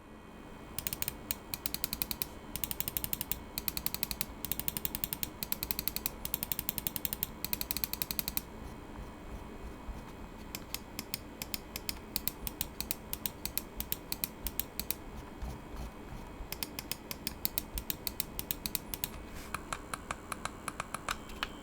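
An ONIKUMA FUJIN RGB gaming mouse with a built-in fan clicks in rapid close bursts, fast clusters of crisp taps separated by short pauses, over a faint steady hum.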